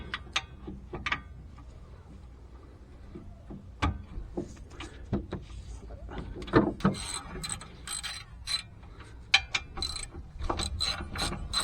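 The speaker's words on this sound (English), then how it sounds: "So I got just a long breaker bar." Long breaker bar ratcheting on a brake bolt of a 2015 Honda Odyssey, a steady run of sharp metallic clicks and pawl ticks with occasional clunks, close and moderately loud, no voices.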